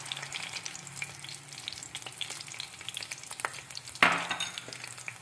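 Gram flour cheela batter fries in melted desi ghee with a quiet, close crackling sizzle and occasional light scraping as it is spread, ending with a sharper burst of sizzle.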